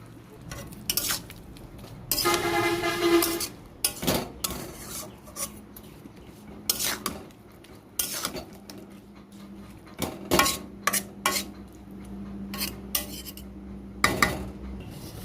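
Spoon stirring red-chilli-spiced food frying on a gas stove in a pan, sharp metal scrapes and clinks in irregular bursts over a faint sizzle, close and loud, with no talk.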